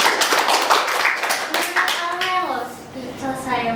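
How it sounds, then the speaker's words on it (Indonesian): Quick, fairly close hand clapping from a small audience for the first couple of seconds, then a voice talks over the fading claps. "kita tepuk tangan semuanya."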